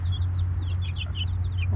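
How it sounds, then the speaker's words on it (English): Mother hen on a farm, fussing near her chicks with rapid chirpy clucks and peeps in a quick irregular series, over a steady low mechanical hum. "And Mama Hen was chasing after the lavender orphangtons, trying to keep them away from her babies."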